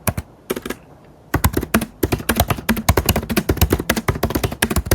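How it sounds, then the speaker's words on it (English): Computer keyboard typing, rapid close clicky keystrokes in a steady burst after a brief pause, fairly loud with no talk. "I'm going to type in what the title is."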